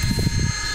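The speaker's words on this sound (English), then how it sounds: "Sorry about the wind again." Strong outdoor wind buffets a microphone in a brief low rumbling roar with gusty fluttering at a street where a hobby RC truck is being speed-tested.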